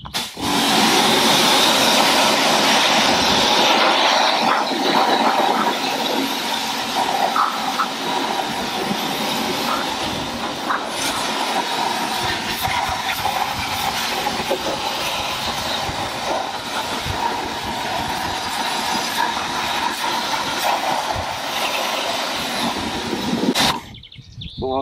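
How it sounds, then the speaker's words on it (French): A high-pressure water jet rinses a car wash brush during a wash of a BMW 530D E39, a loud, steady hissing spray that runs unbroken for over twenty seconds and cuts off abruptly at the end. "Donc là maintenant on va passer un coup de jet d'eau."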